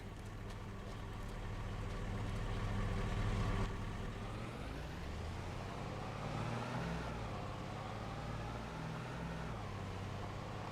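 A truck drives across a farm map in Farming Simulator 25, its engine a steady low rumble that swells slightly as it accelerates midway, heard alone with no talk.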